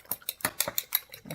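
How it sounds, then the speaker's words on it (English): Three large eggs are whisked in a bowl, a quick run of about eight light clinks and taps of a utensil against the bowl, close and fairly soft, with no talk. "now we have to scramble this all up"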